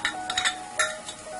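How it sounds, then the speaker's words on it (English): Tahini sauce stirred into a sizzling pan of spicy Lebanese red snapper, giving soft bursts of sizzle and scraping stir strokes over a steady frying hiss, close and moderately quiet. "Now we're going to add in the tahini sauce."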